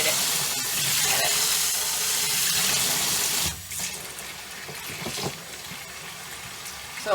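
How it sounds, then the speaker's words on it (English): Water runs steadily into a tub being filled for washing raw wool on a sheep farm, a continuous rushing stream that drops to a lighter, splashier pour partway through. "So I'll fill this tub up"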